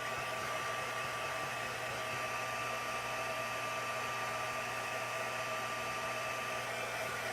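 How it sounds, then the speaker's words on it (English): A heat embossing tool blows hot air in a constant, even whooshing hiss with a faint motor hum, running without pause from start to finish. "I'm going to do heat embossing"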